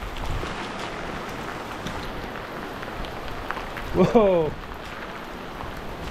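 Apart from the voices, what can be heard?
heavy rain pouring down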